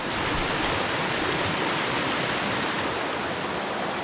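Duteau Creek runs beside the Headgates Dam in the Okanagan, heard as a steady, broad wash of flowing water, close and continuous without pause.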